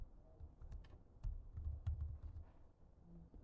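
Soft keystrokes clatter on a computer keyboard in an uneven run of taps and small bursts, fairly quiet and close, with no voices.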